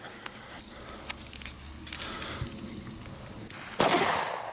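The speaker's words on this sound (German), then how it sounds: "Das sind A-Böller von Fire Event" Fire Event brand A-Böller firecrackers exploding outdoors, scattered sharp bangs at uneven intervals with a louder, closer blast near the end.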